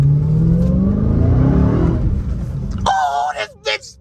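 A 2021 Dodge Charger SRT Hellcat Redeye engine roars and revs loudly from inside the car, the pitch climbing and then fading before excited voices talk over it toward the end.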